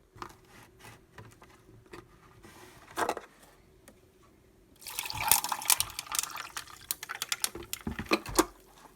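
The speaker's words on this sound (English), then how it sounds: "Just fill my cup with ice." Ice cubes clatter into a cup in sparse clicks, then liquid moonshine pours over the ice in a louder, splashing rush near the end. The sounds are close in a home kitchen, with no talking.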